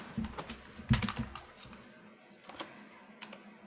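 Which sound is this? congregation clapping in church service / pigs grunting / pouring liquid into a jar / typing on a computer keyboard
typing on a computer keyboard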